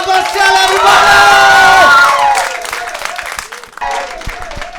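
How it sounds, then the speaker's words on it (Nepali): A stand-up comedy audience bursts into loud applause and cheering with whoops, peaking for about two seconds before thinning out as a voice begins to speak. "प्लिज तालीको गडगडाहट है"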